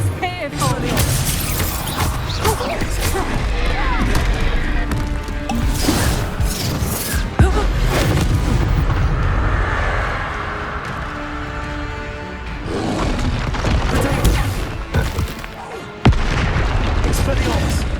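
Confringo spell blasts boom and crash repeatedly amid Hogwarts Legacy combat, heavy impacts and rumbling debris layered with loud game effects, while someone talks over the action.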